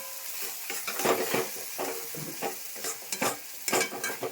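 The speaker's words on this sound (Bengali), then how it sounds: "আমি সর্ষা বাটাটা দিচ্ছি, দিয়ে একটু নেড়ে চেড়ে নামিয়ে দেবো।" Mustard paste is stirred into a dish cooking in a pan, a soft, low sizzle under repeated scraping and clinking strokes of a utensil against the pan.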